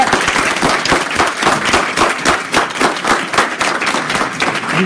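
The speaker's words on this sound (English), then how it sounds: "Give yourselves a round of applause as you stand up." An audience at a live income presentation applauding as they stand, a loud, dense clapping with uneven bursts continuing throughout.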